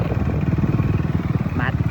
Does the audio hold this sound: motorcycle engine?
yes